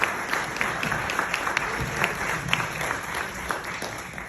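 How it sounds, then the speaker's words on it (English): An audience claps steadily throughout, a dense patter of many hands, with no voices rising above it. "One more time, everybody, big round of applause for Carlos."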